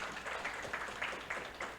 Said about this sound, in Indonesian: Tepuk tangan untuk Mas Aji.